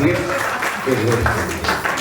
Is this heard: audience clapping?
yes